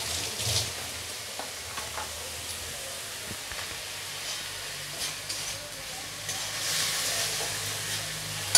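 Masala with garlic and onion frying in a pan makes a soft, continuous sizzle with occasional faint stirring scrapes and a few louder hissing swells, fairly quiet and with no speech.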